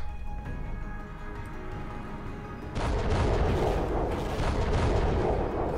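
Missiles launch in the space strategy game Fall of Kobol, a loud roaring barrage of booming blasts that surges in partway through after a quieter rumbling stretch.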